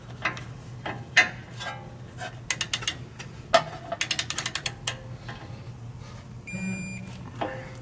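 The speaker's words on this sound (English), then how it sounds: "we're now going to torque the nut" A torque wrench tightens a tie rod nut on a 1996–2004 Toyota Tacoma, giving sharp ratcheting clicks in quick irregular bursts, close and crisp, with a faint metallic ping near the end.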